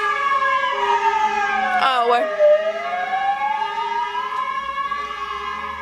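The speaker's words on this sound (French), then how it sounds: "Je crois qu'il y a l'ambulance et les pompiers." Sirens from passing emergency vehicles, an ambulance and fire engines, wail steadily with rising and falling tones, loud and close, while a person briefly speaks over them.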